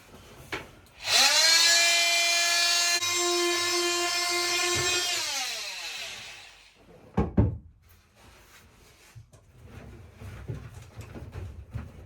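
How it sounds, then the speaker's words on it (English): An oscillating multi-tool cuts through mosaic bathroom tiling aboard a narrowboat, giving a loud, steady, high-pitched buzzing whine for about four seconds before it stops, followed by a few knocks and clatters. "now I'm going through it with a multi-tool"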